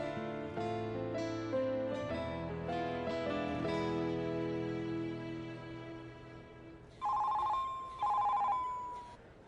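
A telephone rings in a domestic scene, an electronic ringtone with repeated tonal pulses that gives way to a louder two-burst ring near the end, heard alone without talk.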